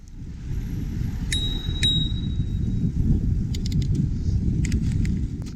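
A bicycle bell rings twice, bright metallic dings over steady street traffic rumble, followed by a few faint clicks.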